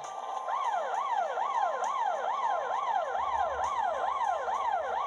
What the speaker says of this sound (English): The light flashes and the siren sounds.